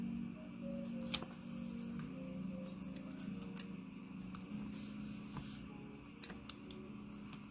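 Scissors snipping through paper die-cut stickers, a few faint, brief cuts and rustles close by over a steady background hum, with no voices.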